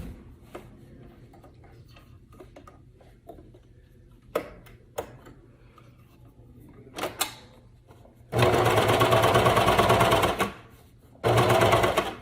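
Sewing machine running a reverse cover stitch on stretch leggings fabric, quiet handling clicks first, then two loud sustained bursts of rapid stitching, close and alone.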